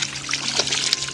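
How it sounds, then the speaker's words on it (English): Water splashes and trickles steadily while a chicken is being washed, a close, continuous wet spatter with brief louder splashes, no talk over it. "Sorry, did I splash you?"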